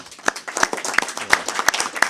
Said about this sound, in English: I applaud the teachers this year